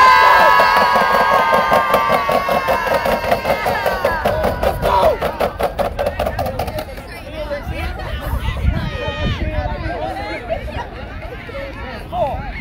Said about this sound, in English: There's a rowdy crowd behind us.